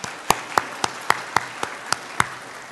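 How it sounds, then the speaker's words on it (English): Sparse, evenly spaced handclaps at a Sunday morning church service, about eight sharp claps in a steady rhythm over a faint murmur, like a small audience applauding. "Let's give our teachers a round of applause."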